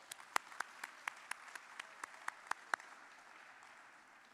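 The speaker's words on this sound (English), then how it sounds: "Let's give them a round of applause as well" Applause for three college music professors at a foundation dinner comes through as faint, sparse clapping, about a dozen crisp, evenly spaced claps in a steady rhythm that fade out before the end.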